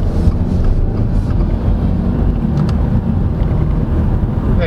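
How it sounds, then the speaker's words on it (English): Steady, loud road and tire roar inside a 2023 Subaru WRX Wagon GT-S cruising at 60 kph, a dense low rumble with wind-like hiss running continuously without pause. "Yeah, there's more tire noise than usual, but still the NVH here is pretty good, surprisingly."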